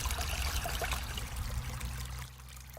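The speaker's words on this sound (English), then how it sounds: "What's really exciting is to see the water now flowing through the woods just as it should be" Water flows through woodland ditches in a restored wild landscape, a loud rushing, trickling stream close by that eases slightly toward the end.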